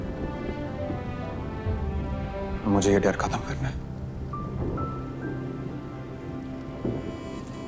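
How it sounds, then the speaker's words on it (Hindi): Steady rain pours through a stormy night with a low rumble beneath, while a voice talks over it in the foreground. "बाहर बारिश हो रही है"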